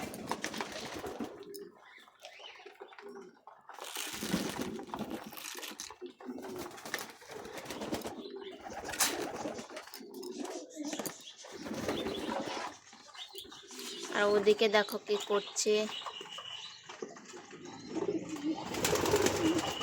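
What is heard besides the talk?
domestic pigeons cooing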